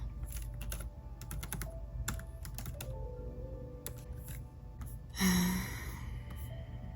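Clattering keystrokes on a computer keyboard come in quick irregular bursts, close and fairly quiet over a steady low background hum, with a brief breathy swell near the end.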